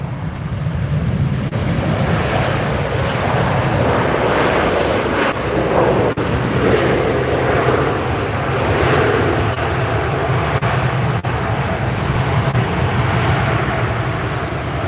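Jet airliner of LOT Polish Airlines at LAX airport, a steady loud engine roar filling the whole stretch with broadband rumble and a touch of wind buffeting, no voices.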